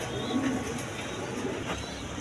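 Giribaz flying pigeons, a pair kept with two chicks, coo softly in low repeated bursts, close by, over a steady background hum, with no voices.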